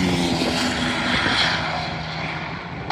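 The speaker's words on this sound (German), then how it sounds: "Kommen mal wieder zwei Autos." Two race cars pass during an NLS race at the Nürburgring, their engines a loud, droning roar that swells and then eases off as they go by, with no talk.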